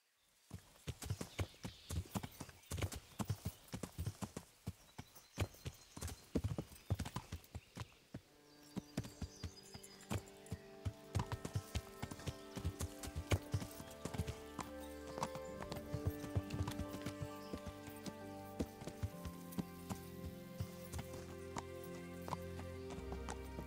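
Horse hooves clip-clop in the medieval video game Kingdom Come Deliverance, first as sharp, separate steps and then in a quicker, steady rhythm beneath a faint game soundscape.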